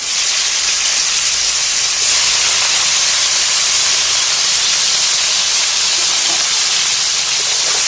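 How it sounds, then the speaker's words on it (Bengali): Cauliflower pieces frying in the oil left in a pan after potatoes were fried, a loud, steady, close hiss that carries on without a break and without talk. "বাকি তেলের উপরে কপিগুলো তুলে দিচ্ছি"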